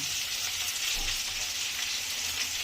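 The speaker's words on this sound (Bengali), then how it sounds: "এবার এটাকে একটু নেড়ে নেব সতে করবো" Diced red and yellow bell peppers sautéed in a pan over medium-high to medium flame, a dense, even sizzle heard up close and unbroken for the whole stretch.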